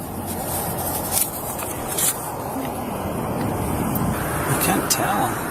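A car engine idles in park, a steady low rumble running under the whole stretch beside a roadway, with voices talking over it.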